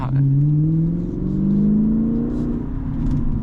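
A 2008 BMW 650i E64 V8 car engine rumbles and pulls up in pitch as it accelerates, a steady strong drone close by.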